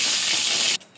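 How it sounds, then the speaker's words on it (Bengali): Marinated meat dropped into hot oil in a kadai, a sudden loud hissing sizzle close up that holds for under a second and then cuts off sharply into quiet. "তেল গরম হয়ে গেছে, মাংসগুলো দিয়ে দেবো।"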